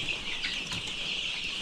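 Fifteen-day-old Rainbow Rooster chicks, an improved Kienyeji breed, cheep and cluck in a dense, steady high chorus with faint rustling underneath.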